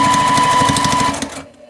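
A sewing machine stitches a quilt block in a fast, steady, close mechanical rattle for about a second and a half, then winds down and stops.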